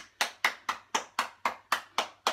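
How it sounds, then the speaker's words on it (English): A small group claps in short bursts at the end of a home workout class, nine evenly spaced sharp claps in a steady rhythm, close and clear with no talking. "Give yourself a clap."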